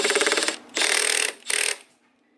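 Impact wrench tightening the special nut on the clutch of a Honda ATC70 three-wheeler, three close, loud rattling hammering bursts that shorten each time, then fade out.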